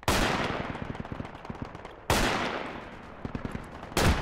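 Gunfire in the military game Project Reality: loud close bursts of rapid automatic fire come in three sharp onsets, each trailing off into echoing rattles and scattered distant shots.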